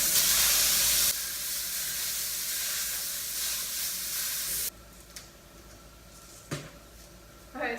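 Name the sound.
cooking spray on a hot pan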